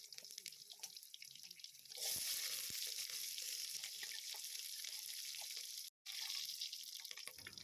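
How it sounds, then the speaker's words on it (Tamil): Prawns fry in a pan with a steady, loud sizzle. The hiss rises abruptly, holds evenly, cuts out for a moment and then resumes. "இந்த மாதிரி எடுத்து ப்ரானை வந்து நல்லா ஃப்ரை பண்ணி எடுத்துக்கலாம்"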